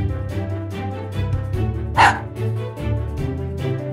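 A robot toy dog barks in a series of short, loud electronic yaps with a brighter yelp near the middle, layered over a light musical backing.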